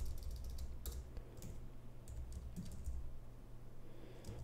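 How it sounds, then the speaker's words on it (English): A computer keyboard being typed on, with quick, faint, irregular key clicks over a low steady room hum and no voices. "now let's type .NET new web app."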